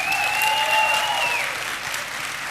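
An audience at an education technology conference applauds a group of student tech helpers, a dense, close burst of clapping that tapers off after about a second and a half. A whistle-like tone rises over the start.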